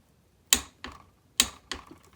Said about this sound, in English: now we can get this baby torqued up to 36 foot-pounds